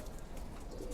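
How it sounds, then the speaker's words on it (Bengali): Lalpatti pigeons in a loft give soft, low cooing that runs through a brief, quiet moment, with no voices over it. "কবুতরগুলো দেখুন"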